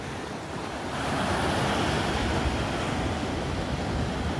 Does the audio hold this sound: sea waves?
yes